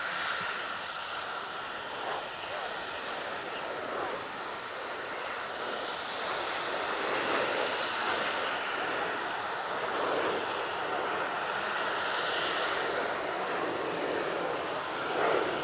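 Master jet trainer at an Italian Air Force centenary airshow, its engine roar swelling and fading in broad waves as it passes and turns, loud but somewhat distant, with no talking.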